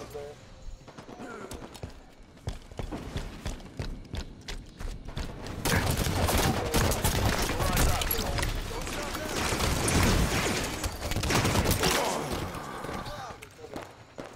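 Assault rifle fire in the video game Halo 5, bursts of rapid gunfire swelling loud in the middle, mixed with game effects and players talking over it.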